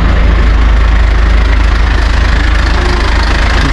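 Garbage truck engine idling, a loud, steady low-frequency rumble with a faint knocking pulse that continues evenly and unbroken.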